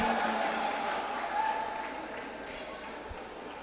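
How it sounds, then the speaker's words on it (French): Audience applause rises for a player at a French-language school quiz quarterfinal, a broad wash of clapping that gradually fades, with a low murmur beneath it. "On applaudit, mesdames, messieurs, pour ce joueur."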